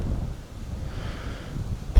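Wind buffeting the microphone at an outdoor disc golf course, a low, continuous rumble with gusty swells, fairly faint and with no voices.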